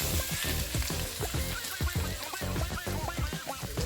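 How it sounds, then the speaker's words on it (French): Rice with tomato paste being stirred in a frying pan over medium heat, with a quiet continuous sizzle and a rapid run of scraping spoon strokes against the pan, close and with no voices. "Et je continue de bien mélanger"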